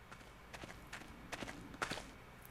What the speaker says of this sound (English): Good footstep ASMR.